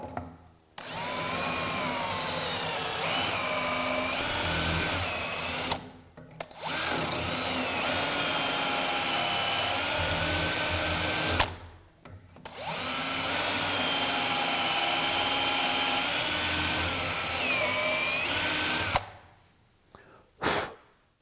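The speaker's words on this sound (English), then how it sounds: "Now drill these 3 A-position holes and clear the chips by plunging up and down." Power drill boring holes in wood through a BeadLock drilling guide, three long steady whining runs separated by short pauses, with pitch dipping as the bit plunges up and down to clear chips, close and loud with no talk.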